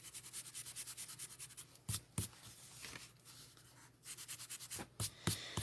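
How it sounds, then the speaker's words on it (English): Pencil lines being erased from a stamped paper card with a rubber eraser, heard as soft, quick rhythmic rubbing strokes in bursts, close and faint, with a few sharper scuffs between them and no talking. "I probably should erase them."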